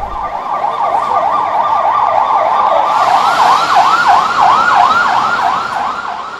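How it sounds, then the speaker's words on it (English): An ambulance siren races toward Shifa Hospital in Gaza during fighting, a loud, close wailing siren that sweeps rapidly up and down in a steady cycle over road and engine noise. "every now and again an ambulance comes racing out, heading for Shifa Hospital."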